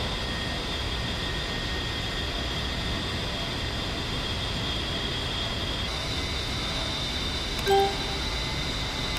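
An A-10C jet in flight in DCS World gives a steady, even roar with a high whine, continuous and unchanging, with one brief tonal beep near the end.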